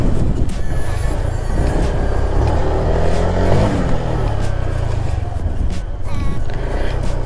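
A stock motorcycle engine revs loudly and steadily while the rider pumps the front up into a slow wheelie, the motor note rising and falling without a break and no talk over it.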